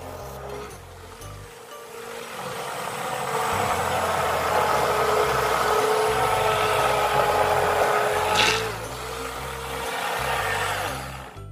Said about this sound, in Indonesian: Di blender sampai halus semuanya.